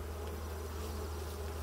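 Honeybees hum steadily and continuously at close range during a hive inspection, a dense, even drone with no voices.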